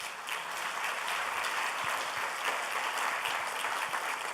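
A church congregation applauds steadily at a Sunday general service, a dense, even wash of many hands clapping from the room, moderately loud, with no voices over it.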